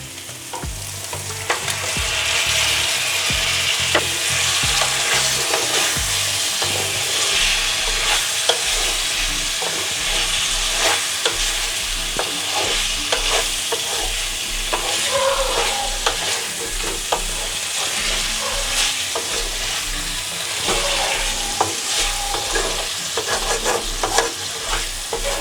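Fried chicken pieces being stirred into a creamy yogurt curry masala in a pan, with steady loud sizzling and frequent scraping, clattering spatula strokes throughout, no voices.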